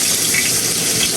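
Chopped garlic and onion hitting hot oil in a pan, a close, steady, bright sizzle throughout the short moment with no talk.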